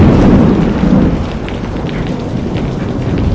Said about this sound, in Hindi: अचानक से भारी बरसात हुई।